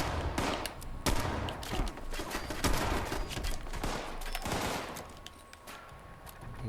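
Automatic turret fire in Fallout 76, a dense rattling fusillade of rapid shots with no letup across the whole stretch, loud and close with other game noise mixed in.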